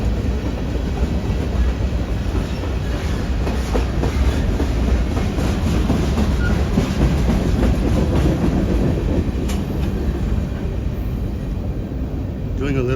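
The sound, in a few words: train passing in San Antonio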